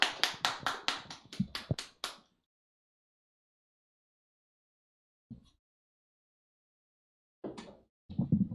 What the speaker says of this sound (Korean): 우리 박수로 우리 선주 형제를 보내도록 하겠습니다